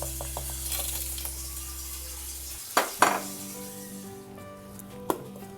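Mixer grinder briefly whirring coconut and jaggery, a steady close motor drone that cuts off abruptly after a few seconds, followed by a few sharp clinks of the jar and lid.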